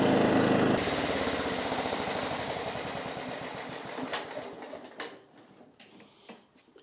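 A John Deere STX38 lawn tractor with a flooding carburetor runs, then its engine winds down, the pulsing chug slowing and fading into a few clunks and rattles at the end.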